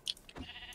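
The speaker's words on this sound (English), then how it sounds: "The sheep have fallen out." A sheep bleats in the Minecraft video game, a short nasal call that stands out clearly against a quiet background.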